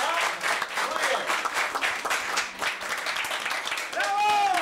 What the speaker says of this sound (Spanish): un aplauso para Don Chejo y para toda la gente que participó de este maravilloso curanto al hoyo